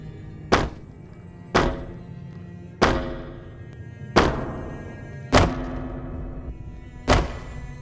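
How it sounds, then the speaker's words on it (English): Six separate heavy thuds from jumping and walking footsteps in the video game Fallout New Vegas, spaced about a second apart. Each impact lands with a dull, boomy punch and a short decay, with no talking. "the sound of jumping, walking, and shooting a shotgun could differ depending on the setting"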